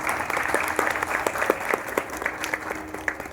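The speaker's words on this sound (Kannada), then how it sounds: "ಅವ್ರಿಗೆ ಜೋರಾದ ಚಪ್ಪಾಳೆ ನಾವು ಹಾಕಬೇಕು" An audience at a Hindustani classical music concert claps loudly, a dense, even wash of applause with distinct individual claps popping out throughout, held at a steady level before easing off slightly at the close.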